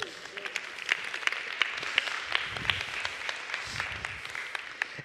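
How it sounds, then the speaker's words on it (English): A conference audience gives moderate applause after a talk, a dense patter of many hands clapping at an even level for several seconds, with a faint voice beneath. "Give her a big round of applause"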